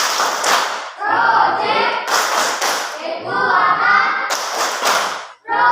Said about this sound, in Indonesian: Kita tepuk pelima ya.